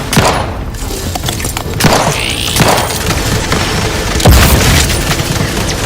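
Several loud grenade blasts and heavy thuds go off amid scattered gunfire in an Outer Worlds 2 firefight, the booms spaced a second or two apart.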